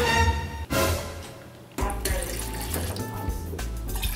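Tap water runs into a pot while ramen is being made at home, a steady rushing pour that breaks off briefly and resumes with shifting pitch as the pot fills, with faint background sounds over it.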